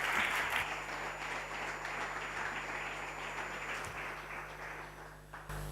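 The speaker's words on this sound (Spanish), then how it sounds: "Les quiero pedir un aplauso para David Alayón" Steady audience applause greeting a speaker at an innovation talk event, a dense continuous wash of clapping filling a hall at even loudness before stopping abruptly at the very end.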